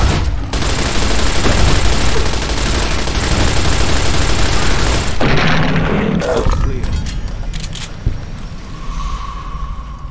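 A light machine gun in Fallout: New Vegas rattles off a loud, sustained burst of rapid fire for about five seconds, then tapers into scattered shots and quieter game ambience.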